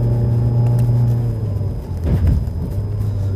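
A Mazda 3 hatchback engine pulls steadily under acceleration in manual mode on a mountain road, a loud continuous drone that dips briefly as the gear changes, then resumes, with no talking.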